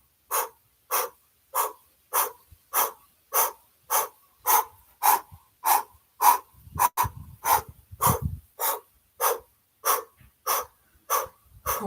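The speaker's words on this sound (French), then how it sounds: "vous pratiquez cette respiration du feu en boulet de canon" Rhythmic cannonball fire breathing through the mouth during a Kundalini yoga practice: a steady train of about twenty sharp, breathy exhalations, roughly two per second, close and even, with faint low noise in the background.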